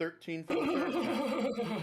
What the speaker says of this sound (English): That was the sound of a horse dying in the background.